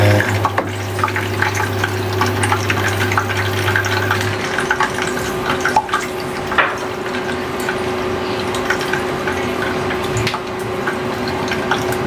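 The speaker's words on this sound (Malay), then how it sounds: "So kita goreng ayam." Steady crackling and sizzling of chicken frying in hot oil in a wok, with occasional louder pops and a low hum underneath, no talking.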